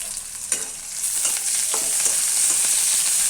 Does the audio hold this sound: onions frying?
yes